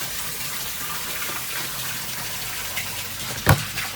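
Continuous broadband water spray hisses steadily throughout, with a single sharp knock near the end.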